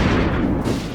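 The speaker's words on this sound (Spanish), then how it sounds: "Meter una explosión." A brief, loud explosion sound effect booms and rumbles with a dense low roar for about a second, with no speech.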